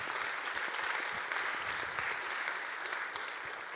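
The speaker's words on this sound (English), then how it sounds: "I propose that we applaud them before," A conference audience applauds the contest finalists, a continuous, even wash of many hands clapping at moderate distance.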